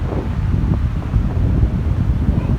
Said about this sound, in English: The wind is very high. The wind power is too much.